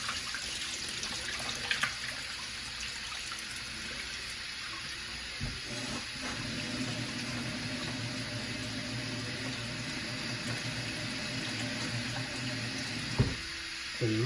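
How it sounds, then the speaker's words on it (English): Potato and carrot being rinsed in water while preparing a curry goat dish: a steady, continuous wash of running water, moderately loud and close, with a few faint clinks and knocks. "so you rinse out my carrot now"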